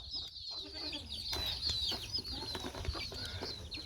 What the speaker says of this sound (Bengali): এইগুলো সব মুরগি আমার